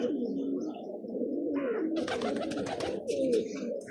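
Pigeons on a rooftop loft in a village near Burewala coo in low, throaty rolling calls, with wing flutters and a few brief chirps close by.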